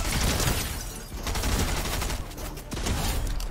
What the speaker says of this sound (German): Wer schießt denn da?